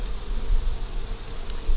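Honey bees buzzing steadily around a hive, a dense continuous drone close by with no voices.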